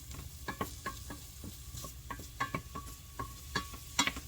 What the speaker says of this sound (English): Add just a little bit of olive oil, or whatever oil you have available. You can put at the bottom of your pan to saute your onions.